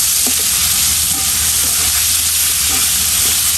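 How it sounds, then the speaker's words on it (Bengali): Chopped onions and chili paste go into hot oil, giving a steady, close sizzle that holds evenly with faint stirring clicks and no voices. "আর কিছু পেঁয়াজ কাটা ছিল এগুলো দিয়ে দিচ্ছি আমি"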